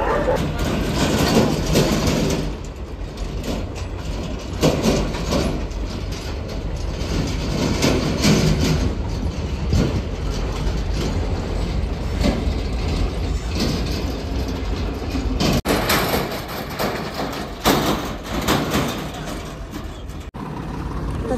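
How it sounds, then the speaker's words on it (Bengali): A train crosses a bridge over the Jatinga River near Harangajao, outside Silchar, making a loud, steady rumbling roar that fills the whole stretch with no pause. "এদিকে দেখো ট্রেন যাচ্ছে ব্রিজের উপর দিয়ে"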